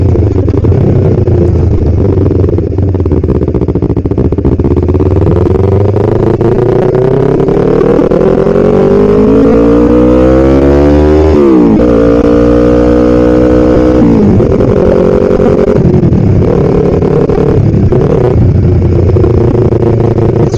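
A loud straight-piped motorcycle revs hard up close, its engine note climbing steadily, dropping sharply, then surging again with raw rasping exhaust throughout and no talking.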